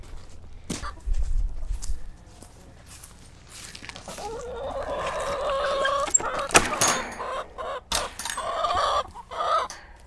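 Chickens clucking and squawking nearby, with irregular bursts of bird calls over a low rumble and some scuffling.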